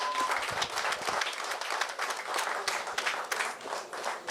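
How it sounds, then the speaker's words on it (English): Audience applause at a community committee tribute ceremony, a steady dense wash of many hands clapping that holds at an even level for the whole stretch, with no voices cutting through. "Give her another round of applause."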